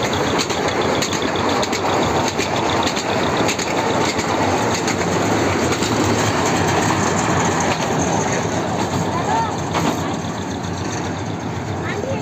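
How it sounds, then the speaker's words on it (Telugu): Mumbai–Hyderabad Hussain Sagar Express train passing close by, a loud continuous roar and rumble of wheels and carriages with clattering rail noise, steady throughout. "ముంబై హైదరాబాద్ హుస్సేన్ సాగర్ ఎక్స్ప్రెస్."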